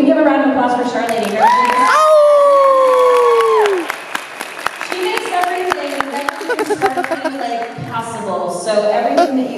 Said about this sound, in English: can we give a round of applause for Char Lady?